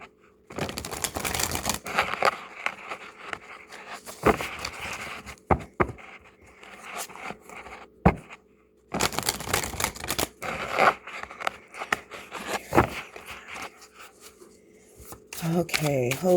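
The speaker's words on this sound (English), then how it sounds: "We are going to check the bottom of the deck when I do stop shuffling" A tarot deck being shuffled by hand in repeated bursts of riffling and card slaps, broken by short pauses, with speech in places.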